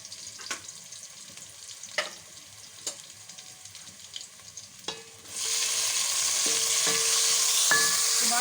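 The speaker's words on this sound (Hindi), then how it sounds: "अब मैं इसके अंदर डालूंगी टमाटर।" Chopped tomatoes go into a pan of half-browned onions for a keema baingan bharta, setting off a sudden loud, steady sizzle after a few soft clinks and stirring taps, and the frying hiss keeps going to the end.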